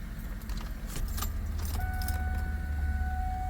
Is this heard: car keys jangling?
yes